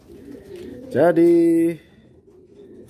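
A single loud, near coo rings out for under a second from a domestic pigeon among white postal racing pigeons, with faint background noise and a brief spoken word nearby.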